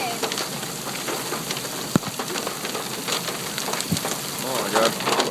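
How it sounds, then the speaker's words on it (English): Large hailstones pelt down outside Silver City in southern New Mexico, a dense, steady hiss and clatter of impacts with occasional sharper hits and a voice rising near the end. "It is freaking hailing in southern New Mexico."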